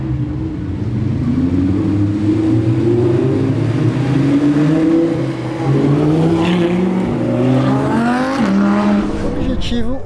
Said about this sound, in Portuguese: Mas é bom saber sempre que você tem um motor V10 aqui nas suas costas